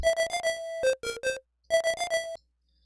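Bright chiptune notes in Deflemask, PSG square-wave buzz layered over an FM synth tone, playing a short bouncy phrase, a pause, then repeating it.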